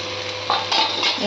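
Rice grains fry and hiss in a hot pan while a spoon scrapes and stirs in a few quick strokes, close up.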